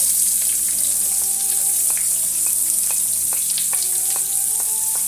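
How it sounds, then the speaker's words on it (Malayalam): Chopped onion frying in hot oil right after mustard seeds have popped, for a carrot thoran: a loud, steady sizzle runs throughout, with light stirring sounds coming through close by. "കടുക് പൊട്ടിക്കഴിഞ്ഞ് ഇനി നമുക്ക് സവാള ഇടാം."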